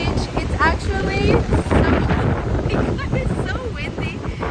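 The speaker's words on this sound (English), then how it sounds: "it's so windy." Strong wind at Joaquina Beach in Florianópolis roars against the microphone in continuous buffeting gusts, while people talk over it.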